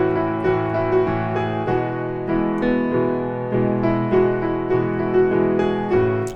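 A piano plays the instrumental bridge of a song, steady repeated chords with a bright melodic line over them, clear and close with no voices.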